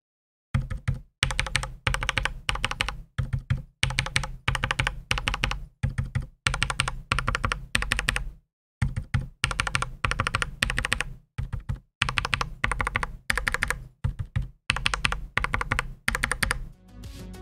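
Typing on a Designed Ironclad mechanical keyboard fitted with lubricated Gateron Milky Yellow switches: rapid, close bursts of muted clacks separated by short silent pauses, with no voices.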